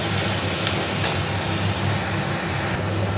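Onions with green chili and garlic paste stir-fry in a pan, giving a steady loud sizzle with some stirring scrapes and a low hum underneath, no voices.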